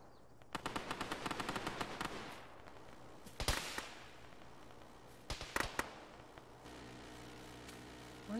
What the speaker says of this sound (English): Where are those shots coming in from?